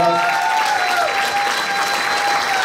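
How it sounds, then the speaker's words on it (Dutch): An audience at a Belgian pageant event applauds in a sustained, even wash of clapping, while a faint steady tone hums underneath throughout. "Geef haar ook een applaus."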